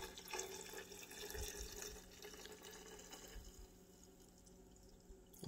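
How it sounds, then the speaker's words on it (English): Tequila is poured from a bottle over chili peppers in a jar, a steady liquid stream gurgling and splashing for several seconds before tapering off, close and fairly quiet. "We're just gonna pour it right over."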